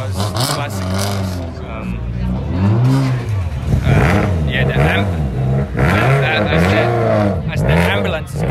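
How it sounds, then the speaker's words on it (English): Classic cars at the Goodwood Festival of Speed 2019 driving back down the hill, engines revving and rumbling past nearby, continuous and loud under steady talk. "the cars are returning back from the top of the hill"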